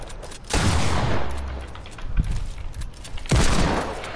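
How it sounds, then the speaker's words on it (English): SMG gunfire in a video game comes in loud rapid bursts, one long rattling volley followed by a brief pause and another sharp burst, with no talking. "first time I've used my SMG."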